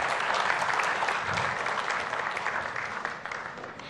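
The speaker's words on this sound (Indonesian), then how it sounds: "Kita berikan tepuk tangan bersama Bapak Ibu sekalian" An audience at an evening gathering applauds together, a dense, steady wash of clapping that fades slightly toward the end, with no speech over it.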